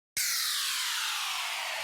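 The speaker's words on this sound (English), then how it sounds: "Then we've got a down lifter." A down lifter sound effect from a music production: a sudden loud burst of airy white noise that sweeps steadily downward in pitch and sustains for almost two seconds.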